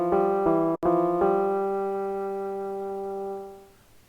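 An electric piano preset in FL Studio plays a few quick notes then a sustained chord that rings out and slowly fades, soft and clean with no voices.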